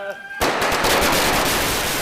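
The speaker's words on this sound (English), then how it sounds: "The lighting of firecrackers." Chinese New Year firecrackers burst into a dense, loud crackling barrage after a short quiet moment, rattling on continuously like rapid gunfire until the end.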